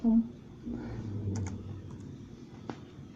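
A handful of scattered keystrokes sound on a computer keyboard, quiet and close, over a low background hum.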